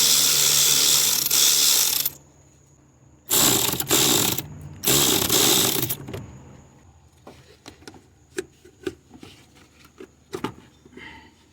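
Ratchet wrench turning a 10mm clamp bolt on a Honda Accord engine, several loud bursts of rapid clicking separated by pauses, then quieter scattered clicks and taps as the work continues; no talking.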